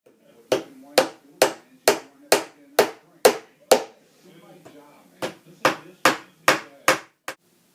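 Hammer driving nails into MDF trim bead, sharp evenly spaced strikes close up, about eight in a quick run, a short pause, then roughly six more in the same steady rhythm.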